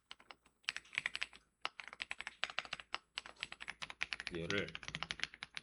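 Rapid keystrokes on a computer keyboard while writing code, a dense run of close clicks with brief pauses and a short spoken word partway through.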